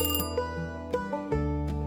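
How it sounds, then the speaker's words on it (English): A telephone ringing abruptly in a home, sounding as a harmonic, bell-like electronic ring with repeated tones and no talk, within a fantasy tabletop role-play scene. "you wake up abruptly to the sound of a phone ringing"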